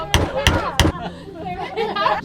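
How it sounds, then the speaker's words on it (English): Three sharp metallic hammer strikes ring out in quick succession as a cannon charge is tamped down, followed by people chattering nearby. "They tamp it down with a hammer"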